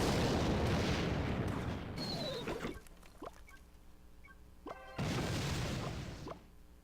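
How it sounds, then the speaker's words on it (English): A Rocket spell explosion in the Clash Royale video game lands with a heavy, broad booming blast that rumbles and fades over about two seconds. A second loud blast follows a few seconds later, with sparse game clicks in between. "And here's Rocket."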